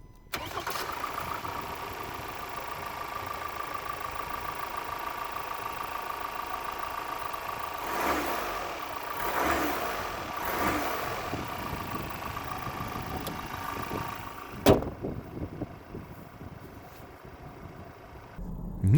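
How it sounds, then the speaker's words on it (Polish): Ford Focus Active 2.0 EcoBlue 150 diesel engine running steadily with a smooth, fairly quiet hum, a few swells in the middle and a brief sharp knock near the end, with no voices. "Co dla mnie było jednak największym zaskoczeniem, to bardzo cicha praca jak na silnik diesla."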